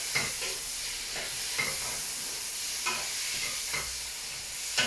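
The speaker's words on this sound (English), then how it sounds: "Giving it a quick stir." Stir fry with thick sweet soy sauce sizzling in a pan, with a steady hiss and a few soft periodic scrapes from quick stirring, alone and close.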